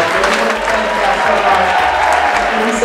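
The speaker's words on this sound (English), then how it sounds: "would everybody please give a round of applause for all of the people who" Wedding guests clap together in a sustained round of applause, a dense even patter over a steady low thumping beat, with a few faint voices mixed in.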